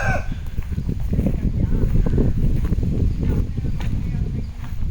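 Chickens cluck and fuss continuously inside a farm chicken shed near Mahabalipuram, a busy, close flock with some voices mixed in.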